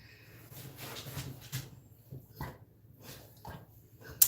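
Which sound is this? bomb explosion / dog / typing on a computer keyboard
dog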